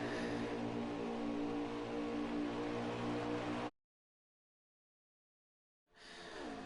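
A pack of race cars at Auto Club Speedway roars past loudly for several seconds, then the sound cuts to silence before engine noise returns with a sweeping pitch change.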